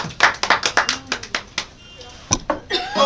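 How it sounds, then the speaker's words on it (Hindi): An audience at a New Year stage show claps in a quick run of sharp, separate claps, loud and close, then pauses before a few scattered claps return. "एक बार जोरदार ताली।"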